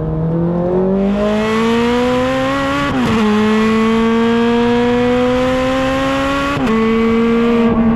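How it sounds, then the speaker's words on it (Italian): A loud Ferrari 430 Scuderia flat-plane V8 revs steadily upward through the gears, its pitch climbing, dropping briefly at two quick shifts, then climbing again. "del suono che sappiamo benissimo, il V8 albero piatto di questi anni"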